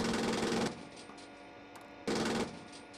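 Coaxial machine gun on a CV9035 combat vehicle firing two short, rapid bursts, the first lasting under a second and the second briefer, over a quiet interior hum.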